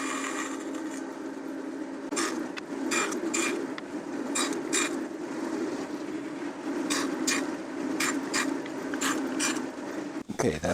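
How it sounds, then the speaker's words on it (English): A fine-kerf gent saw cuts wood in short, bursty strokes under a steady background hum. The rasping pulses are close and fairly quiet, come in irregular clusters and are broken by pauses. "I'm using this gent saw because it's got such a fine kerf."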